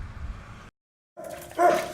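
Rescued dogs whimper and yip up close, a short burst of whining, then a pause, then a louder rising whine.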